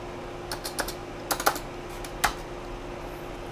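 Keys tapped on a retro Fujitsu computer keyboard with a dead enter key, a handful of close, sharp clacks in short irregular bursts over a faint steady hum.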